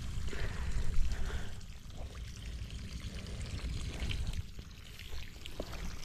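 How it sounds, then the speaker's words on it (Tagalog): Water pours and trickles steadily across a field where bitter gourd plants are being irrigated, a soft continuous splashing flow with no voices. "patubig na tayo dito sa Ampalaya"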